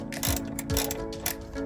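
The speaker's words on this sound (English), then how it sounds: "Next step is it's saying to remove this 12mm bolt." A ratchet wrench loosens a 12mm bolt on a Kia during a remote start installation: close, quick mechanical clicking in short bursts of strokes with brief pauses between them.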